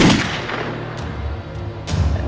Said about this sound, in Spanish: entonces gatilla el cuarto disparo